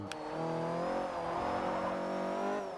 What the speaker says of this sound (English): you can hear that supercharge if you listen carefully